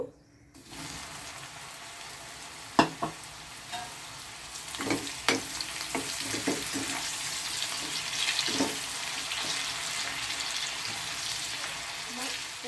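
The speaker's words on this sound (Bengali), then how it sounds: "তেলটা আমার গরম হয়ে গেছে এবার এই তেলে আমি অল্প অল্প করে এগুলোকে এগুলো ছেড়ে দেব" Okra pieces dropped a few at a time into hot oil, breaking into a loud, steady sizzle with clinks and stirring knocks that build and continue.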